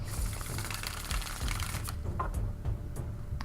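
Tarot cards are shuffled by hand in a continuous papery riffling and flicking, close and fairly loud, with a few sharper card snaps near the end and no talking.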